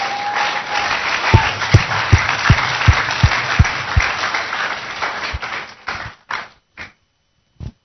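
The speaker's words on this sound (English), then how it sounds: "Now let's clap for Jesus" Church congregation clapping together during a sermon, a fairly loud wash of applause with a few sharp rhythmic claps near the start, fading into scattered last claps and silence.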